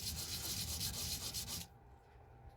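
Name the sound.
sanding a silver ring flat on sandpaper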